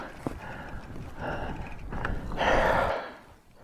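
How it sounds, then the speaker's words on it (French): Cows walk on a mountain hiking slope, their hooves clacking and thudding at moderate distance amid rustling outdoor background noise. "Et ça là, ça c'est des vaches. Elles marchent, elles défoncent tout."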